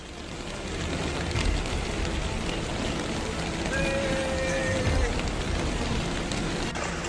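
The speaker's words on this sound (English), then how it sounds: "And the rain still hasn't stopped." Heavy rain pours steadily during flooding in Shaanxi along the middle reaches of the Yellow River, a dense continuous hiss of drops on surfaces with faint tonal sounds briefly in the background.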